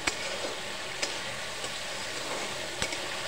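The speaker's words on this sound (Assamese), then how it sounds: "মছলাখিনি ধুনীয়াকৈ ভাজি ল'ম যাতে নহৰু আদাৰ গোন্ধবিলাক নাইকিয়া হৈ যায়" Ground spices with garlic and ginger paste frying in oil, a soft continuous sizzle with a few sharp clicks of a stirring utensil against the pan.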